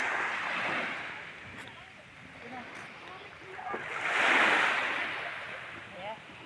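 Sea waves wash steadily onto Manapa beach in Butuan City at sunrise, a broad surf hiss that swells and recedes, with one louder surge midway, under faint wind.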